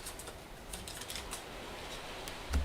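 Bloodborne board game cards being shuffled, a quick run of light papery riffling ticks that patter on for a few seconds, with a slightly heavier knock right at the end.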